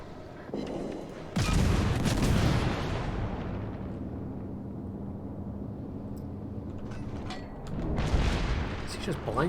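Naval guns in World of Warships boom in a heavy burst, followed by a long rumbling tail and a second swell of blasts near the end, with a voice talking over the game.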